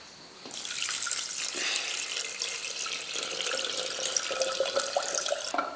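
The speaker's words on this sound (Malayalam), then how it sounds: "ഇതിലേക്ക് ഞാൻ വെള്ളം ഒഴിച്ചു കൊടുക്കുന്നുണ്ട്." Boiled, cooled water is poured into a pineapple wine mixture, a steady close splashing stream running without pause for several seconds.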